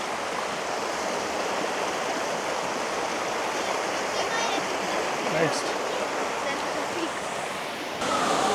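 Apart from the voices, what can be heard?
canyon stream water flowing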